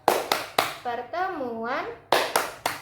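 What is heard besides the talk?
group rhythmic clapping chant (tepuk P2K2)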